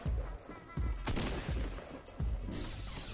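Bursts of gunfire from a Star Wars-themed Fortnite match, several sharp volleys at a fairly even rhythm, quiet overall, with a voice talking over them.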